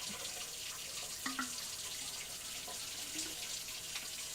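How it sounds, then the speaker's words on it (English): Water runs from a tap into a passata bottle, making a steady hiss with faint gurgles and small splashes, fairly quiet and without talk. "So we're just going to put the water in here and give it a shake."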